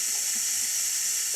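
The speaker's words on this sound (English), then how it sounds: "Rinse it under cool water" Dentures rinsed under a running tap of cool water, a steady bright hiss of flowing water filling the whole stretch at an even, fairly loud level.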